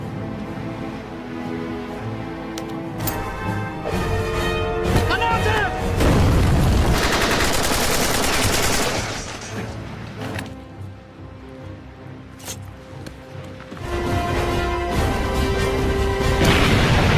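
Gunfire and heavy booms from a war film trailer set among German army posts, coming as loud bursts and crashes over a dense score, with a quieter stretch in the middle before the blasts return.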